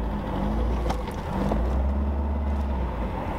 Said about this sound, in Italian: è un motore elasticissimo, ha un'elasticità spettacolare, è a benzina, però è un piacere guidarlo